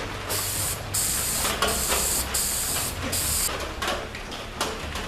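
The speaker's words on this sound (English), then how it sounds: "I'm just kind of holding the can at a downward angle" Gray spray paint hissing from an aerosol can aimed downward onto a Dollar Tree skeleton gargoyle, in several close, loud bursts separated by brief pauses.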